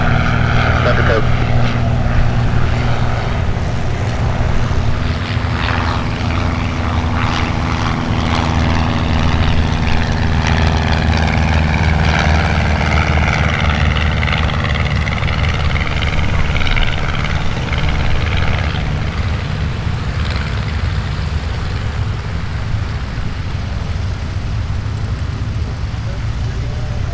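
Propeller airplanes arriving at EAA AirVenture Oshkosh give a steady, loud engine drone that fills the whole stretch, mixed with wind and crowd noise while voices talk throughout.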